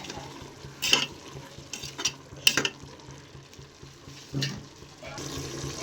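Biryani masala sautéed in a pan for tomato rice, irregular scraping stirs and clinks over a soft sizzle, close, with some faint voice-like sound in the background.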